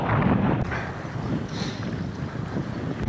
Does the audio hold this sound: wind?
yes